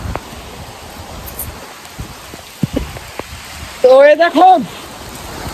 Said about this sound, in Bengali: এবছরও অনেক জোরে বৃষ্টি আর ঝড় শুরু হয়ে গেছে